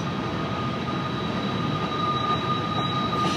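A Norfolk Southern freight train with a trailing Conrail locomotive passes in Crescent Springs, Kentucky, a steady low rumble of rolling cars with faint high wheel squeal, constant and moderately near, no voices.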